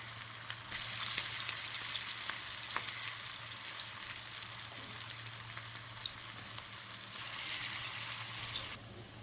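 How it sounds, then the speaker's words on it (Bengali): Cabbage pakoras sizzle in hot oil over medium heat, a steady close crackling hiss that carries on without a break and with no one talking. "আর পকোড়াগুলো মিডিয়াম আছে ভাজতে হবে"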